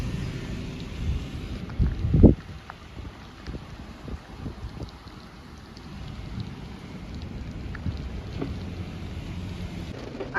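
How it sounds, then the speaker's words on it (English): Rain falling harder during Hurricane Hilary in Delano, California, a steady hiss of rainfall on surfaces with a brief loud rumble and thumps early on, no voices. "so it's starting to rain a bit harder."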